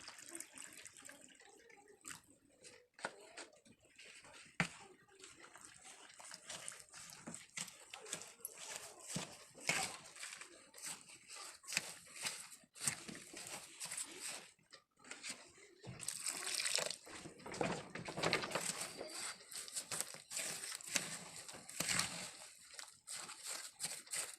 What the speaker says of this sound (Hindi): अभी हम इसके अंदर पानी डालेंगे, ताकि हम इसके अंदर फिक्स कर सकें।